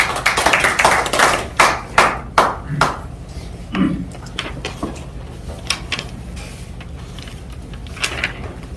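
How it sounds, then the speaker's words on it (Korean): Small audience applause at an interfaith association seminar, a handful of people clapping in loud close claps at first that thin into scattered faint claps and room noise. "큰 박수 부탁드립니다."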